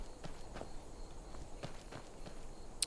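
Hooves of a horse walking in the video game Skyrim, with quiet, evenly spaced clip-clop steps over faint background noise and no voices.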